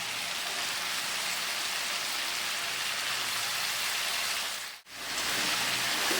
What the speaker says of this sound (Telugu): ఇప్పుడు కట్ చేసి కడిగి పెట్టుకున్న క్యాబేజీ వేస్తారు.